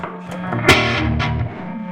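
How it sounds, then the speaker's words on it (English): Overdriven guitar amp on its super-distortion overdrive channel, a thick, saturated distorted guitar chord ringing out with a brief sharper strum midway, fairly loud and sustained, no talking over it. "Now here's channel 3, which is like the overdrive,"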